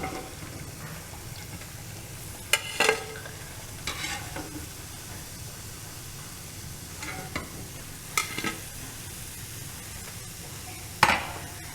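Masala vada deep-frying in hot oil gives a continuous, close sizzling bubble, broken by a few sharp clinks and stirring scrapes.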